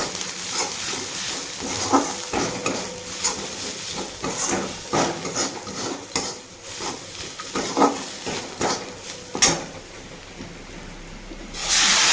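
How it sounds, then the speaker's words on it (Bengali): Coriander, cumin and turmeric powder frying in a pan for a leafy greens curry, a continuous close sizzle with repeated stirring scrapes and knocks at an uneven rhythm, ending in a brief burst of louder hiss. "ধনে জিরে আর হলুদের গুঁড়ো দিয়েছি এটা একটু ভালো করে ভেজে নিই"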